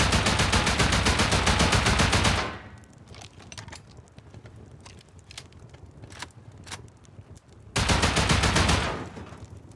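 Suppressed weapon fire in the Rust video game strikes a metal door in two rapid automatic bursts, one at the start lasting about two seconds and another near the end, with quieter scattered impacts between them.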